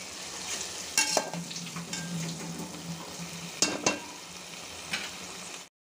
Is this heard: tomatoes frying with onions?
yes